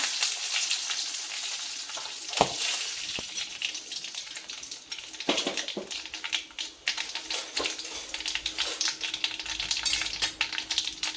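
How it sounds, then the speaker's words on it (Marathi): Mustard seeds, cumin and curry leaves crackle and spit in hot oil, a dense, bright sizzle with sharp pops throughout, close and loud, with a few stronger bursts and no voices. "मोहरी तडतडली का जिरं टाकायचं, जिरं तडतडलं का कढीपत्ता"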